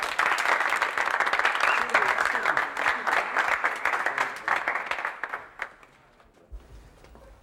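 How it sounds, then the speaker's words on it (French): An audience applauds loudly at an inn, a dense burst of many hands clapping that holds strong for about five seconds before thinning and dying away into quiet. "Mesdames et messieurs, applaudissez très fort notre première cliente."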